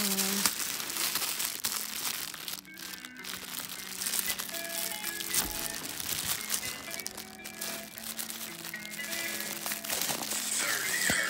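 Crinkling of a bag being unwrapped during a basketball purse haul, a continuous loud rustle of plastic wrapping with rhythmic scrunches and tearing sounds, close up, with no speech over it.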